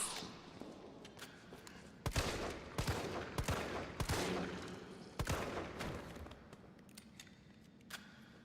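Gunshots in the Resident Evil 3 Remake video game ring out as a series of sharp, loud reports spaced irregularly across the stretch, each with a short echoing tail over a low ambient bed.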